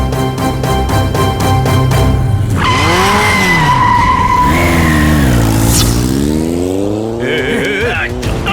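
A car starts and drives off, engine revving hard with tires squealing in rising and falling sweeps, loud and close, while voices shout over it.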